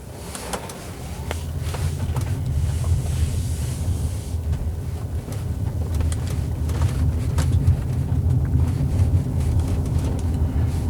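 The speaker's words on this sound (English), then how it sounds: "as we drive around with this particular car, the 2017 Tesla Model X" Inside a 2017 Tesla Model X while driving, a steady low road rumble and soft wind noise fill the cabin, fairly quiet and even, with occasional faint clicks.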